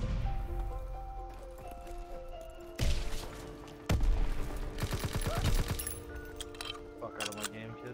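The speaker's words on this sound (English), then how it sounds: "I love how powerful this grease gun is, bro" A grease gun fires in a WWII video game, loud bursts of rapid automatic fire breaking out in several volleys, with people talking over the gameplay.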